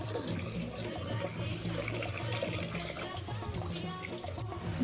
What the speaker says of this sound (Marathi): नीट भर. पाणी खाली चाललंय.